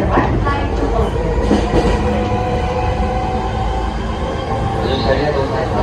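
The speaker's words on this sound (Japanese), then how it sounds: "この列車は東京メトロ東西線に乗っている快速みたいな感じです" A JR East E231-800 series train, unrenovated set K2, runs along the line in a loud, continuous rumble with rhythmic wheel clatter and a slight squeal, heard from close by with speech over it.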